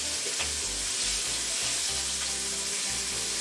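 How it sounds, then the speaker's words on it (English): Pork chops sear and brown in oil in a frying pan, giving a steady, close, loud sizzle with soft crackles and no talking. "Let's turn these over and brown the other side."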